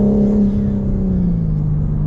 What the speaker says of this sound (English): A lot of the sound of the engine is synthesized.